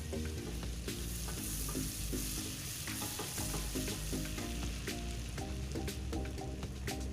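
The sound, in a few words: ginger and garlic frying in melted butter in a pot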